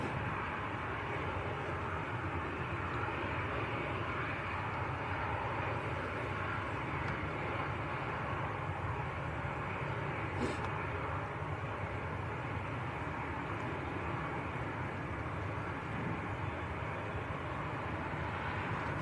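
Finnair airliner from Helsinki at an airport, its engines giving a distant, steady broadband rumble and hiss that carries on evenly for a long stretch.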